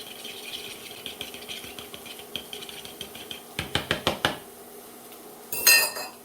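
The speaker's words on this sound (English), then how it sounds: "whisk these up a little bit more." A whisk clattering rhythmically against a bowl while mixing breakfast ingredients, light repeated taps building to a burst of faster strokes, then a short sharper clatter at the end; no voices.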